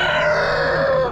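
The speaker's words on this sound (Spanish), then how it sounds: "Mira qué gallo." A big rooster at the Matienzo livestock fair crows loudly and close by, one long sustained call that trails off at the end, with no talking over it.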